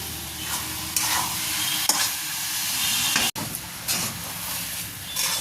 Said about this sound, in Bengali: এইভাবে নাড়াচাড়া দিয়ে দিয়ে পাকটাকে দিতে হবে নাড়ুর পাকটাকে